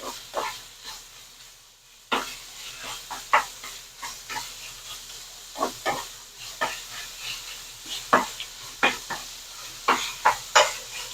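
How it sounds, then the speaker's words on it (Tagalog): Ground beef (giniling) being stirred in a hot pan, steady sizzling under repeated scraping and clattering strokes of a spatula at an uneven rhythm, fairly close. "Yan, halo-halo lang natin to. Hanggang maluto siya."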